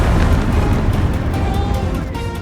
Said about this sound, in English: two massive explosions were triggered